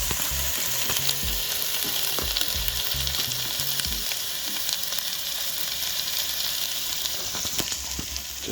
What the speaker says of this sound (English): You guys hear that sizzling sound?